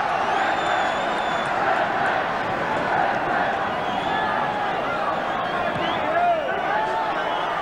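A packed football crowd at Carrow Road roars and chants in steady support of Norwich City against West Bromwich Albion, a dense continuous wall of stadium noise with occasional whistles, loud and sustained throughout.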